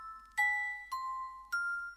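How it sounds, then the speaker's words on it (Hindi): Three bright metallic strikes of a brass bell hit against the ground, each ringing out briefly before the next, clear and close with nothing else around. "पीतल की घंटी को जोर से जमीन पर मारा"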